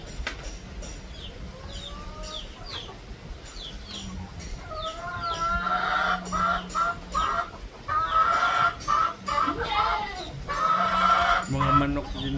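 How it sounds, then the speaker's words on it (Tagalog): Chickens cluck and call repeatedly at a goat-feeding farm, with close, irregular bursts of clucking and squawks that grow denser and louder partway through, over a low background rumble. "Mga manok din, guys, oh."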